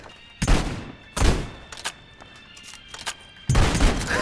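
A short-barreled shotgun fires in a VR shooter, giving three heavy booming blasts with rough tails, spaced a second or more apart, plus fainter mechanical clicks in between.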